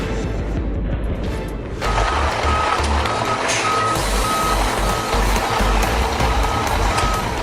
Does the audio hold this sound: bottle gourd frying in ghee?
no